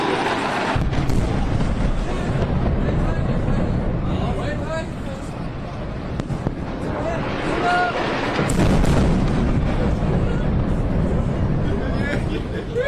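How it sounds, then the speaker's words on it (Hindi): Bomb explosions in Beirut, Lebanon rumble as deep, heavy booms within a dense, continuous roar, with a sharp burst about two-thirds through, while voices talk over the din. "इस वीडियो में बम के धमाकों की आवाज सुनाई दे रही है"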